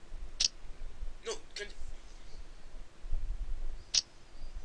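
Keyboard arrow keys pressed during a two-player Blockhead flash game: a few sharp, separate clicks spaced over several seconds, close to the microphone, over low background noise.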